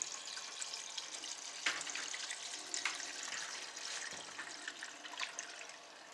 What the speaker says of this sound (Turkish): Şimdi suyu vanasını açtıktan sonra su dolmaya başlayacak